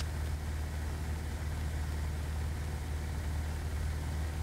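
A small airplane's piston engine holds 2200 RPM in mountain flying, a steady, loud low drone with a constant rumble and no talk over it.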